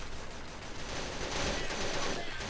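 Gunfire in a first-person shooter video game, a short burst of rapid shots with noisy crackle over a dense game soundscape, no speech.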